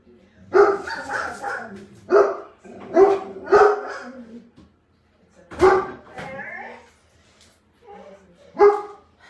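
Dogs bark in repeated loud bursts, several barks in quick succession, then pauses before more barking; fairly close and excited.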